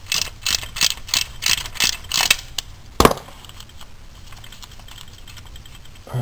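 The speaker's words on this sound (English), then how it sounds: "let's undo those bolts. So I'm going to get on this 13 millimeter" A ratchet wrench undoes 13 mm bolts on the engine mount of a VW Golf Cabrio during a starter replacement, giving several quick bursts of close, loud clicking, then a sharp knock and a quiet, steady tail.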